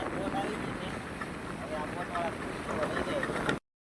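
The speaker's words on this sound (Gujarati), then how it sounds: "એક બોટ આવ્યું તો છે કાંઠે" A boat comes in to the shore at an island village in the sea, heard as a steady broadband rumble of engine, water and wind noise, close and continuous, with faint talk underneath.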